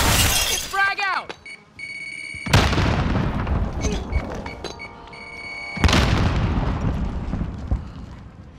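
Frag grenade explosions in Call of Duty: Warzone, two heavy booms with a shattering tail, each roaring loudly then slowly decaying, following earlier gunfire and mixed with game audio.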